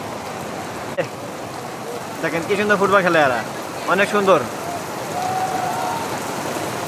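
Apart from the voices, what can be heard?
heavy rain falling at Cox's Bazar beach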